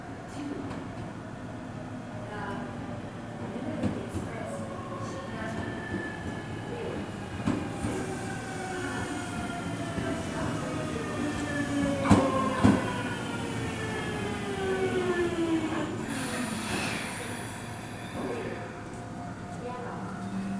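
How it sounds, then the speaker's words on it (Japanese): A 383 series Shinano limited express pulls into Matsumoto Station. Wheels squeal and rails clatter as it slows alongside the platform, under a station announcement, with a high hiss of air brakes near the end. "1番線に列車が到着します。"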